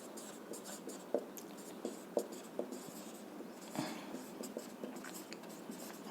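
Chalk or marker writing on a board in a physics lecture classroom, faint scratchy strokes and taps in an irregular rhythm, with soft room noise and no clear talking.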